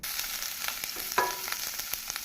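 Chopped onion sizzles and crackles steadily in hot oil with cumin seeds, a close, continuous frying sound with small pops.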